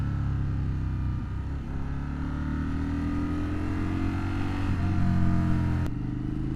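A 2025 Indian Sport Scout motorcycle with the Speed Plus motor rides along with a steady, loud engine drone and rumble, the pitch easing and rising slightly with throttle and a brief shift near the end.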